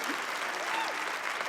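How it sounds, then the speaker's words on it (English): Steady audience applause fills a studio stage introduction of television cast members, a dense continuous clatter of many hands clapping at even loudness throughout. "Help me welcome to the stage with a big round of applause, Dr. Jimmy Palmer, Brian Dietzen."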